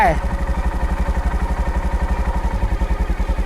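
A Honda Monkey motorcycle engine chugging at low revs, a steady close pulsing thump as the throttle is opened slightly, with a person talking over it.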